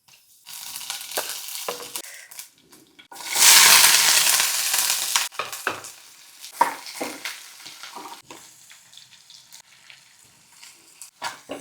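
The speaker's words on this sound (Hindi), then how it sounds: "तो मैं इसी फ्राइंग पैन में बनाऊंगी।" Kadhi cooks in a frying pan, with a burst of loud sizzling and frying followed by intermittent stirring, scraping and clinking of a utensil against the pan.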